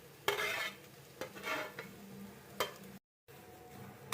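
Grated carrots fry in ghee for carrot halwa, a soft sizzle under several sharp spoon scrapes and stirring clatters against the pan, close and fairly quiet with no talking.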